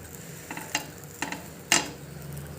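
Cheese sandwich frying in ghee in a pan, with a few scraping and stirring clatters over a soft sizzle, close and moderately loud, no voices.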